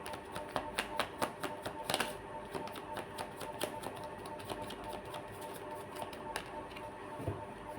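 A deck of tarot cards is shuffled during a reading, giving a run of soft, rapid riffling clicks with a few sharper snaps. The sound is close and fairly quiet, and there is no talking.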